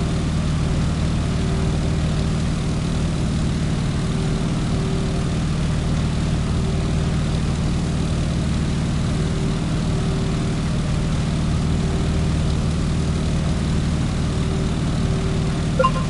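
A Boeing Stearman PT-17 biplane's propeller engine drones steadily in Microsoft Flight Simulator during a climb, a loud continuous low hum with a faint tonal whine, alone without talk.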